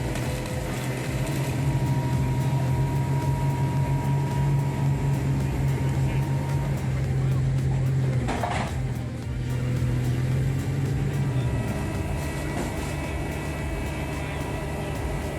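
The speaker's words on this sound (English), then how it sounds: "Every time the Orca S5250P crushes a car into a cube" An Orca S5250P car crusher compacting a car into a cube makes a loud, continuous heavy mechanical rumble with a steady low drone and a brief grinding burst midway.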